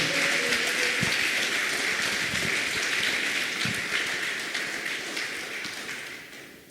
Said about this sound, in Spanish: dale un fuerte aplauso a Jesucristo en esta mañana